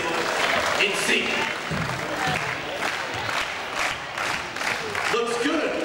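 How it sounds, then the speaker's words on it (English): A crowd claps and cheers for Anthony as he tries a half-court basketball shot, forming a dense continuous wash of applause with voices mixed in, loud and steady throughout. "Nice and loud, and everyone clapping for Anthony."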